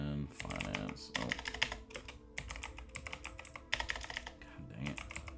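Someone types quickly on a computer keyboard in several bursts of rapid, close, clicking keystrokes separated by short pauses, with a low background hum.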